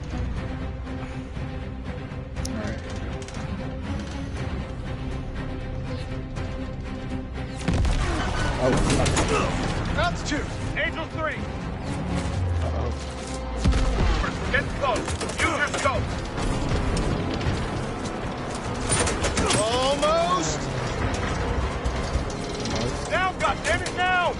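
In Call of Duty: Vanguard, bursts of machine gun tracer fire and explosions rattle around an aircraft during a flying mission, with loud engine drone and voices talking over the gunfire.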